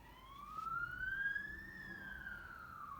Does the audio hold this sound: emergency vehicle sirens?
yes